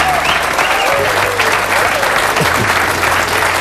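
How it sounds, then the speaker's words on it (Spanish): An audience bursts into sustained applause, dense, loud and steady clapping from a crowd filling the whole stretch, with some faint voices mixed in. "¡Aplausos!"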